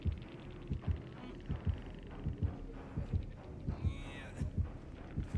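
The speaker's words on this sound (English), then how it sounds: "I hear his heartbeat getting closer." Approaching killer's heartbeat in the game Dead by Daylight: steady, loud, low double thumps pulsing in a regular rhythm throughout, with faint game ambience around them.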